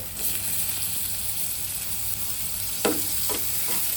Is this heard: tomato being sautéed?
yes